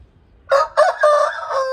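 A Kagvar Pettamar rooster crows loudly and close by, one drawn-out call broken into a few strained bursts after a moment of near silence.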